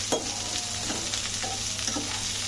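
Steady sizzling of pumpkin-leaf-wrapped dumplings frying in a pan, with a few soft scraping stirs breaking through the constant crackle.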